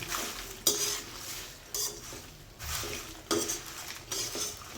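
Whole spices, bay leaves and dried chillies dry roasting in a pan over low heat for a homemade biryani masala, with a soft rustle broken by periodic scraping and clinking stirs, close and moderately quiet.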